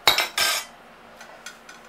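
A barbecue ladle and dishes clatter while a portable Kenmore dishwasher is loaded, with two sharp metallic clanks up close, then a few lighter clinks fading out, and no talking.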